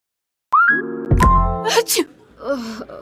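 A sharp, loud sneeze breaks out after a rising, voiced intake of breath, followed by a brief murmuring sound.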